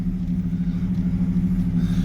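A fast Dodge car rumbles past beside a field, its low engine drone steady and fairly loud through the whole stretch, with no one talking.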